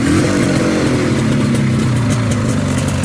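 A 1985 Ski-Doo Type 462 liquid-cooled 463cc two-stroke snowmobile engine runs close by, a loud steady buzzing drone with slight pitch wavering throughout.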